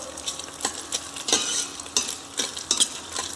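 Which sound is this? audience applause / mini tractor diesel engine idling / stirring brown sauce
stirring brown sauce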